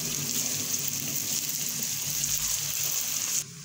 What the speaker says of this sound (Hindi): अब अच्छी तरह से इसके साथ मसाले को भून लेते हैं हम लोग।